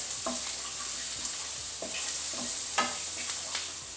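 Onions sizzle and fry brown in a pan for a Tulu-style chickpea and potato gasi, with a steady crackle broken by soft scraping stirs of a spoon; no one speaks.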